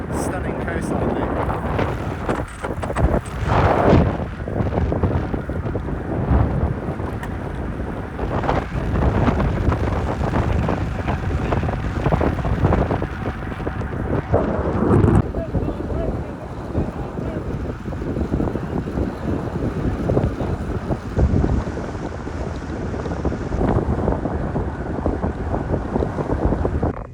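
Strong coastal wind in South Africa roars and buffets the microphone throughout, a constant low rumble with gusty surges, and a voice comes through faintly at times.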